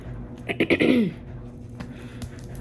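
Someone clears their throat with a few rough, gravelly bursts close to the mic, over a steady low hum from a running clothes dryer in the background.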